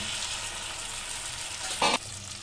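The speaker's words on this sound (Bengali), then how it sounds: "তেল গরম হয়ে গেছে, এটা এবার আমি দিয়ে দেবো।" Ingredients such as lemon pickle are dropped into hot oil in a pan, giving a steady close sizzle with a sharp burst of spattering near the end.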